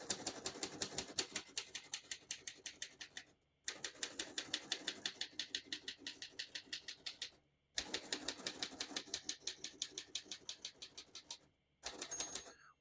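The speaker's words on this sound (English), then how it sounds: "Once you hear the bell, you're near the end of the margin." Typing on a 1937 Royal De Luxe portable typewriter: rapid, even keystroke clacks in runs of several seconds, separated by brief pauses, with a bell ring near the end; close and fairly quiet.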